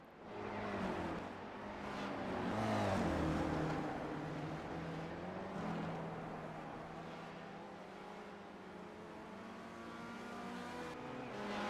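Race cars lapping the Detroit Belle Isle street circuit in a racing sim game, engines whining and shifting as they accelerate and pass, a continuous layered drone of several cars at moderate level without voices.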